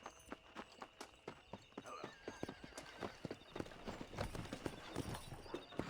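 A horse ridden at speed in Red Dead Redemption, with rapid, rhythmic clip-clop hoofbeats close by, a whinny partway through, and a rider's faint voice in the mix.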